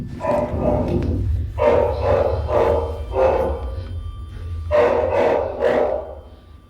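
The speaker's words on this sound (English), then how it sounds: "Bloody dog barking off like that" A pet dog shut in an upstairs room of a house barks in short, loud bursts, about six barks in uneven pairs with brief pauses between, slightly muffled indoors and with no talking.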